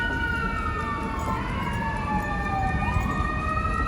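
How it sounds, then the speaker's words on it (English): Wailing ambulance siren on a New Orleans street near Bourbon Street, sweeping up and down in pitch at moderate distance over steady city traffic and street noise. "We hear what sounds like an ambulance, a New Orleans ambulance."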